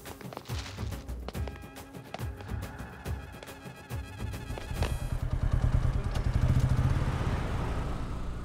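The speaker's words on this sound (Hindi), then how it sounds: "बंटी बाइक को किक मार।" A motorcycle is kick-started on a street: a series of sharp tapping, clattering kicks, then the engine catches and runs with a rising, rough idle for the last few seconds.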